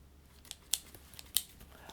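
Scissors are handled with a few quiet, sharp metallic snips and clicks at uneven intervals in an otherwise hushed room.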